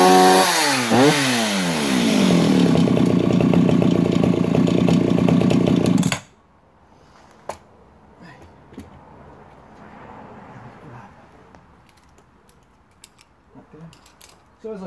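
A vintage Stihl 031AV 48cc chainsaw idles loudly and steadily up close for about six seconds, then is switched off and cuts out abruptly, leaving near silence with a few faint clicks and handling sounds.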